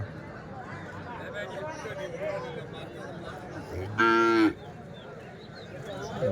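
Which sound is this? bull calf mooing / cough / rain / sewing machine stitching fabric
bull calf mooing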